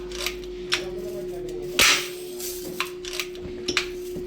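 An air gun loaded with pellets is shaken to loosen a jam, giving scattered metallic clicks and rattles over a steady electrical hum.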